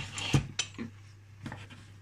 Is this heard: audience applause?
no